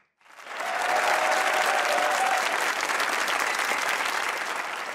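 A studio audience at a Pakistani comedy talk show breaks into applause after a short silence. Dense clapping swells quickly and then carries on evenly at full strength.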